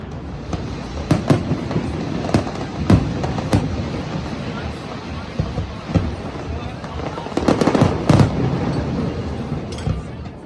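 Fireworks over the river at Riverfire, a continuous rumble of distant bursts with sharper cracks and booms scattered throughout, heavier near the end, with crowd voices mixed in.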